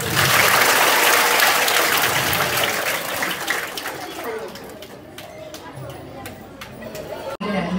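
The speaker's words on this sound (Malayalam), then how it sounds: "സാൻവിക്ക് ഒരു ബിഗ് ക്ലാപ്പ് കൊടുത്തേ" Audience applause for a young dancer at a Mohiniyattam performance, a dense burst of clapping that thins out into scattered claps over murmuring voices.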